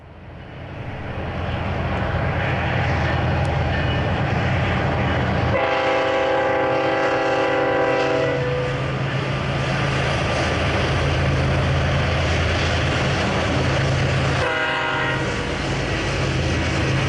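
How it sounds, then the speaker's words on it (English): A freight train led by a lash-up of blue bonnet GP60 locomotives rumbles past loud and close, its horn blaring in two long chords, first for a few seconds and then briefly again, over steady engine and wheel noise. "a lash-up that includes a couple of blue bonnet GP60s"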